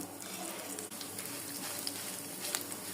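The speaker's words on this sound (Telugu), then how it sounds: "పోపు కొంచెం వేగాలి. పోపు కాలింది." Dried red chilli, crushed garlic and mustard seeds sizzle in a generous amount of hot oil, a close, steady crackling fry with fine pops throughout.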